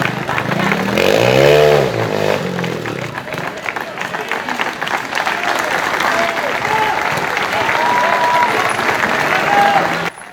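Spectators clap at an outdoor motorcycle trial competition, a sustained loud wash of applause running throughout, with a trial bike's engine revving and droning up close at the start beneath it.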